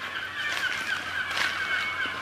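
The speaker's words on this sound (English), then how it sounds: "Mostly at the moment we can hear seagulls." Seagulls call repeatedly in Antarctica, their harsh honking cries rising and falling over a steady wind-like hiss, moderately close and continuous with no talking.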